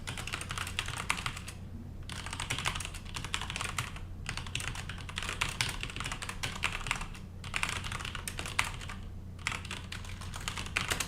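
Fingers type steadily on a computer keyboard, a close, continuous patter of clicking keys with a few brief pauses and no talking.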